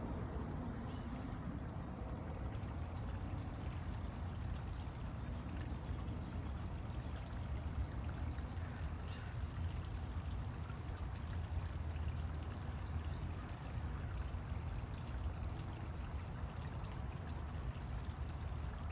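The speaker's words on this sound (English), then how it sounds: "That gurgling of water." Water gurgling and trickling steadily, a soft continuous burble that holds at an even level throughout without breaks.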